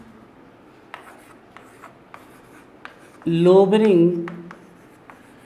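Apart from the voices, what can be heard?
writing on a board during a lecture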